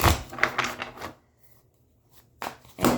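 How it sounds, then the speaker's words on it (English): A Gothic Tarot deck is cut by hand, giving a close burst of crisp papery riffling and card slaps, a short quiet pause, then another brief flurry of card handling. "I'm going to again cut the deck with my left hand"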